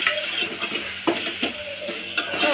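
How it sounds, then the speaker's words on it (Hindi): Tomato and curry leaves hit hot oil in a frying pan for a garlicky chutney, giving a loud, steady sizzle with spoon scrapes and stirring clinks close up, no talk. "टमाटर कड़ी पत्ता डालते हैं"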